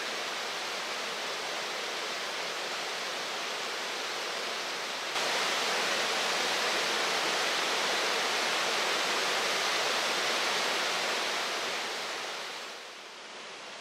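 A loud, steady rush of a waterfall at Twin Falls in western Massachusetts roars without a break, growing a little fuller midway and easing slightly at the very end.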